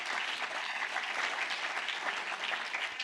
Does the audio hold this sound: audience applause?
yes